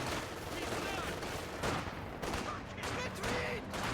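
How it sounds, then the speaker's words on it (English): Bursts of MG42 machine gun fire rattle continuously in a Company of Heroes 2 match, firing at engineers in a building amid other battlefield gunfire, with no voice over it. "The MG42 is going to shoot at the engineers in the building"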